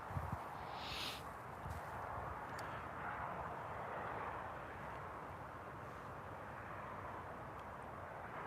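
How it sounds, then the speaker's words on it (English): Steady, moderately quiet broadband engine roar from a Boeing 777 airliner at Newcastle Airport, a continuous distant jet rumble with a faint brief tone near the start. "Let's get a quick video of this 777."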